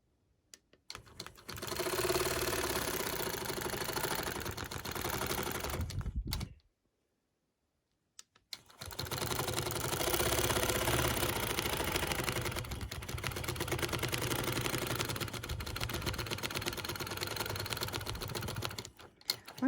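A sewing machine stitches steadily while quilting along a Lily Lines ruler, a close, continuous fast whir that runs for several seconds, stops briefly in silence, then starts again and keeps running to the end.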